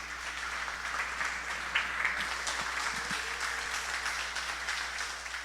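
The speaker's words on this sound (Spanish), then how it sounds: "Dale un aplauso a Dios, por favor." A church congregation applauding during a sermon, steady sustained clapping at a moderate distance for several seconds with no break.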